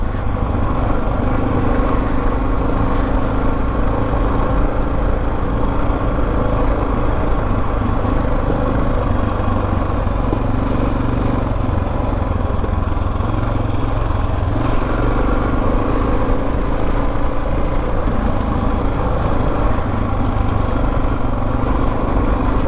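Motorcycles, a Suzuki DR650 and a Royal Enfield Himalayan, riding at an easy pace on a mountain road in the Great Smoky Mountains, with a steady, continuous engine drone and wind rumble throughout.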